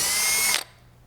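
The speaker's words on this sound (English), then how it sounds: "we're going to start by drilling out our lower corner hole" Power drill boring a rivet hole in the wing of a 1994-98 SN95 Mustang, a loud high whine for about half a second that stops abruptly, leaving quiet room noise.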